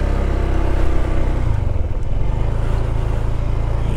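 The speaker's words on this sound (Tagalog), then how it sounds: "Ang daming motor." Motorcycle engines idle and rev in a busy parking lot at Bolinao Falls, a tourist spot in Pangasinan, making a loud, continuous rumble with a low, steady drone and a brief rise in pitch, with no voices.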